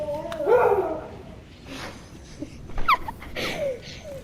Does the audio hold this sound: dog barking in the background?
yes